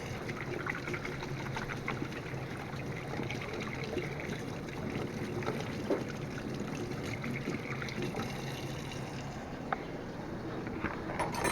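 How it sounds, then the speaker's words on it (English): Hands are scrubbed with soap under a running tap, a continuous gentle trickle and splash of water heard close and fairly quiet throughout. "Soap and water as usual."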